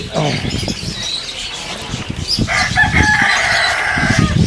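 A fighting-cock rooster of a distinct game breed, kept among rare animals in Batticaloa, crows outdoors, heard close and fairly loud over steady background noise, with short clucks and a voice or two in between.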